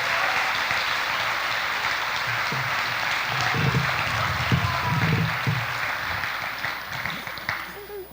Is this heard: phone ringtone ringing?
no